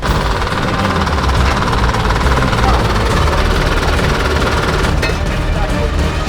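Heavy farm tractor engine running loud and close while moving a long trailer, a dense rattling diesel rumble that holds steady throughout without a break.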